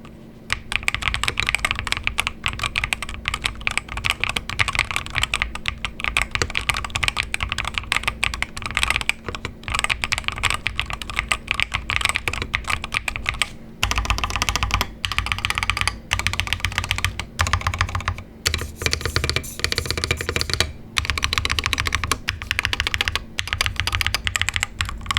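Typing on an IQUNIX EZ80 TKL mechanical keyboard with an aluminum chassis: dense, fast keystroke clatter continues for about twenty-five seconds, close and crisp, with brief bursts and short pauses and no talking.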